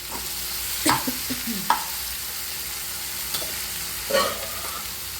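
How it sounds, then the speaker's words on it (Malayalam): Chopped banana stem and horse gram stir-fry in a pan, a soft, continuous sizzle punctuated by a few distinct spatula scrapes and knocks, heard up close with no talking. "ഇനി നമുക്ക് നമ്മൾ ഉണ്ണിപ്പിണ്ടിയും മുതിരയും കൂട്ടി ഇട്ട് കൊടുക്കട്ടെ"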